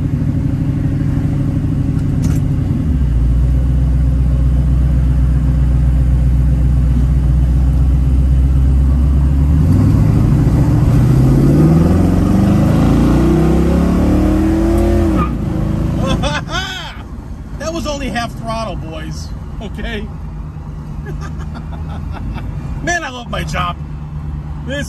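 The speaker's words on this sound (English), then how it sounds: "I'm driving a freaking 69 Trans Am Firebird." A 1969 Pontiac Trans Am Firebird rumbles at a low, steady idle and then climbs through rising engine revs while driving before easing off, loud and close, with someone talking over it.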